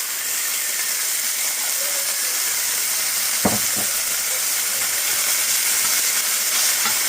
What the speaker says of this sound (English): we're gonna saute these up until the onions turn clear